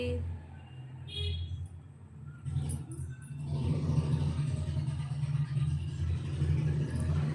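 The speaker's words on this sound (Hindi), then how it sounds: "गाड़ी जा रही है, देखो कितना तेज। हमारे गेट बंद है फिर भी इतना तेज सुनाई दे रहा है।" A vehicle passes on the road outside a closed gate. Its engine rumble swells and holds loud for several seconds, with some background sound before it.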